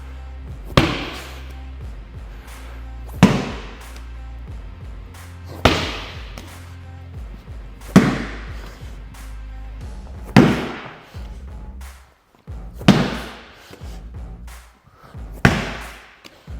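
A weighted slam ball is thrown down hard onto the floor during a HIIT workout, landing in seven loud, heavy thuds spaced about two to three seconds apart, each with a short rebound rattle and no voices.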